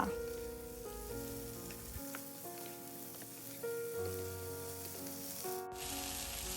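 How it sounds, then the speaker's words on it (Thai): A steady sizzle of three-colour bell peppers stir-frying in a hot pan, continuous and soft, with a faint humming tone running underneath. "ผัดคลุกเคล้าให้เข้ากันเลยค่ะ"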